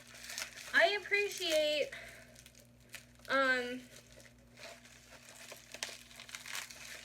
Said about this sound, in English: They really bubble wrap the heck out of these things, which I appreciate.